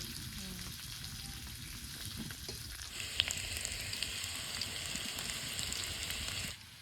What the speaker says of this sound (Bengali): আলুটা ভাজা হয়ে গেছে এবার তুলে নেবো